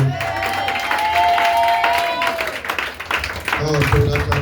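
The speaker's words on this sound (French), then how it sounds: "ton acclamation est trop timide" Church congregation applauding and cheering during a worship service, a dense crowd roar with clapping and raised voices, loud and sustained, with a sung or shouted tone running through and a brief dip before the noise swells again.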